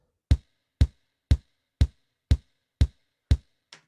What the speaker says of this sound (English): 4 on the floor. When we're in 4/4 time, that means every quarter note is being played, and usually the floor being the kick drum.